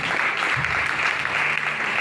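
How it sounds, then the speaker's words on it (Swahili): Church congregation applauding in praise of Jesus during a sermon, a dense, even wash of clapping from many hands lasting a couple of seconds, moderately loud and without clear speech. "Yesu makofi."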